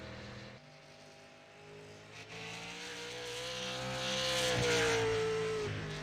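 Super late model race cars lapping during qualifying in the iRacing video game, a single engine note rising and falling as it accelerates, peaking loud and then easing, with no talk over it.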